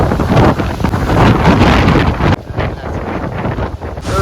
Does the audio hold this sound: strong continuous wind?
yes